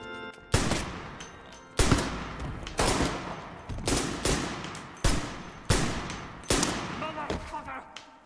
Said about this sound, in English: The echo of the gunshots there was brilliant.